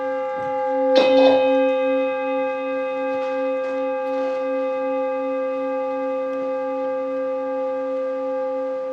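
Buddhist temple bell at a dharma service, struck once for meditation, gives a bright attack that settles into a long, sustained, humming resonance with steady harmonics, fading only slightly over several seconds with faint background rustles.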